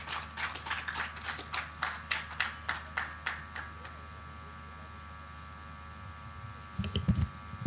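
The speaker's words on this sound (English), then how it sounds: "Another round of applause, ladies and gentlemen" A short run of about a dozen evenly spaced claps at a launch event for Uganda's natural resource information system, moderately close and fading out after a few seconds into a quiet room hum, with a brief rustle near the end.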